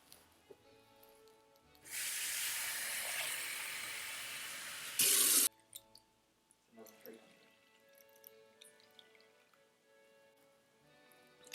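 Lukewarm water pours from a tap into a bowl for bread dough as a steady, hissing stream for about three seconds before it cuts off abruptly, followed by faint handling sounds, close by, with a voice talking quietly.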